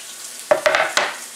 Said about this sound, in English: So we will add this into our onions and garlic.